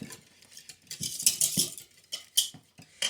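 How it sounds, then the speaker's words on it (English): A utensil whisks egg and cinnamon in a bowl for French toast, giving quiet, irregular clinks and scrapes against the dish in short bursts. "I like to mix it straight with my egg"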